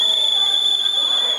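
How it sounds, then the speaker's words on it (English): A whistle blown to call the attention of deaf children at an accessible book installation, one steady shrill piercing tone held for over a second, loud and close. "Each 5 minutes, we blow a whistle and blink a light to call the attention of the deaf children."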